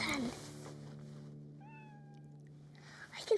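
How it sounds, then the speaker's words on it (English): A cat meows once in a quiet residential street early in the morning, a single drawn-out call heard at a moderate distance over a low steady background hum. "I can hear a cat meowing."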